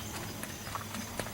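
Faint hooves clip-clop in a few irregular hits on a hard surface, quiet and brief against low background noise.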